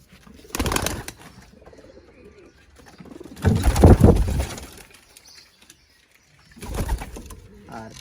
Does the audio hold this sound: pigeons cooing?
yes